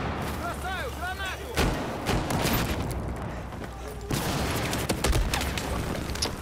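Gunfire and grenade blasts in Battlefield 4's Operation Metro map: dense bursts of shots and booms in a chaotic firefight, with shouted voices mixed into the loud, continuous battle.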